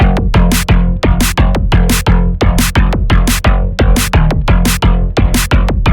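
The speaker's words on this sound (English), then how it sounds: "this bass pluck, which for all purposes right now needs to be a very deep and sort of funky bass pluck" Deep, funky drum and bass pluck synth made in Serum within Ableton, a loud, punchy pattern of short bass hits repeating in a steady rhythm over nearly six seconds, with no voices.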